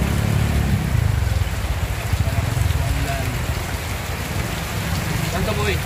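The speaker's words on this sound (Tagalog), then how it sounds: "Malakas na po ang ulan." Heavy rain pours steadily on a surface in a dense, continuous hiss with low rumbling underneath, while people talk intermittently through it.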